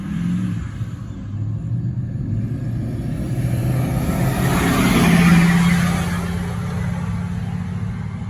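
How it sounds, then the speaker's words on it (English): Diesel traffic passes on a nearby road, a low rumbling engine that swells to a peak midway and then fades slightly, with a steady idling drone beneath. "I just had diesel traffic go by"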